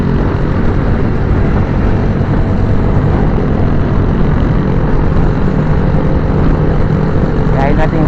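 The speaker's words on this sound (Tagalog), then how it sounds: "Yung tunog ng motor," Engine noise from a motorcycle being ridden, with a Honda Beat nearby, heard as a loud, steady drone with road and wind rush throughout, mixed with the hum of other traffic.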